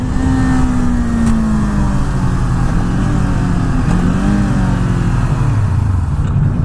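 A 2019 Kawasaki Z400 engine revs loud and close as the clutch slips, a sustained droning note that sags and climbs without ever settling.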